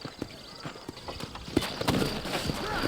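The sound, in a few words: horses walking in video game Red Dead Redemption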